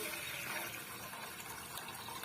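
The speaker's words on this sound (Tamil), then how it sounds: "இப்போ வந்து நம்ம தண்ணி சேர்த்து இதை நல்லா வேக வச்சு எடுத்துக்கலாம்" Water poured into a pot of sago for carrot payasam, a faint, steady gushing stream that runs unbroken from start to finish.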